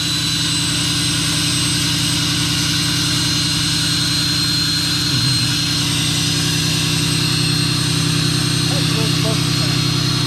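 A 6.7 Cummins diesel engine with the kicker turned on gives a loud, steady howl at close range. Voices can be heard briefly over it.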